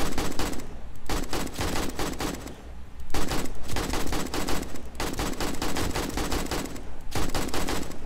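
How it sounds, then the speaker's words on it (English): Rapid automatic gunfire from a cop enemy shooting at the player in the survival game 7 Days to Die, dense continuous bursts with brief pauses, loud and close. "He's shooting bananas at me."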